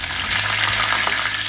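Cumin seeds and curry leaves tempering in two spoons of hot oil in a small tadka pan, a loud, close, steady sizzle and spatter with no talking.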